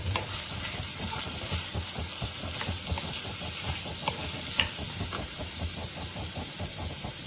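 Grated fresh coconut and onion roast in a pan with a steady soft sizzle and hiss, broken by faint scraping stirs throughout.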